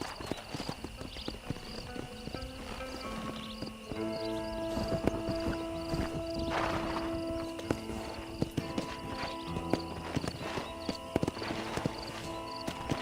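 Horse hooves clip-clop steadily while riding in the Red Dead Redemption video game, over layered game music, with a brief whinny and a voice urging the horse on.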